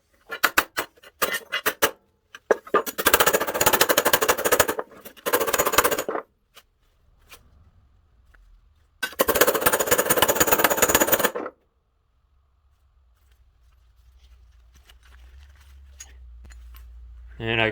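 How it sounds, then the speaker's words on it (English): Hammer blows on a welded steel fender from a classic car come in two rapid, loud bursts of metallic banging, each a couple of seconds long, with scattered single strikes before them and quiet gaps between. "Now let's try hammering it back straight."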